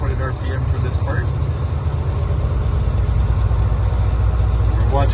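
A truck's diesel engine runs at 1200 RPM during an air brake test, a loud steady low drone throughout, with voices in the background over it.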